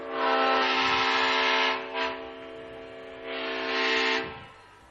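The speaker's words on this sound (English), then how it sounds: "That is a truck, folks, with a bullhorn set up in the back of it." Bullhorn mounted in the back of a truck near a high school baseball game, sounding long sustained horn-like tones resembling a train whistle, loud, with a brief break between blasts and no talk.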